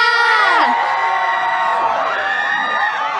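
A live crowd at a BNK48 random dance event screams and cheers loudly for one team, a continuous high-pitched roar of mostly young voices with whoops rising and falling throughout.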